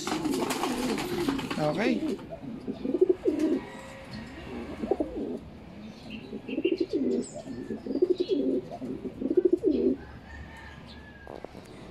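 Young racing pigeons coo in the loft in repeated soft, throaty bursts, close by, with a voice speaking briefly over them.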